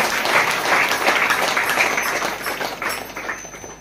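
A congregation at a prayer centre applauds together in thanks, a dense, steady wash of many hands clapping close by that slowly thins toward the end.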